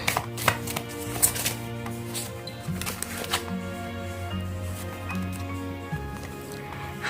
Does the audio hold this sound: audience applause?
no